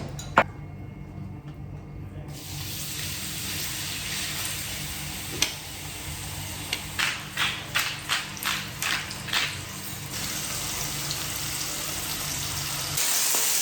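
Steady sizzling of food frying in a pan, a continuous crackling hiss with a run of soft rhythmic taps partway through.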